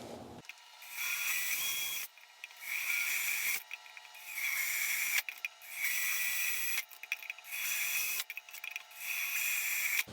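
A drill bit grinds into a ceramic pot to widen a drainage hole, in five loud, steady bursts of roughly a second and a half each, separated by short pauses.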